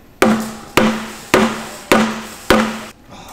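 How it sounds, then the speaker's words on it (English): Hammer blows striking a leaking steel wheel on a cheap racecar, five loud ringing metallic hits spaced about half a second apart, each decaying quickly, close by with no talking. "Chelsea DeNova, the champion's banging my wheel."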